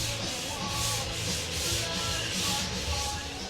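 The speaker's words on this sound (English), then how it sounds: "He's been in there sanding, drywalling all day." Steady rhythmic drywall sanding, abrasive strokes sweeping back and forth about twice a second, with music playing faintly underneath.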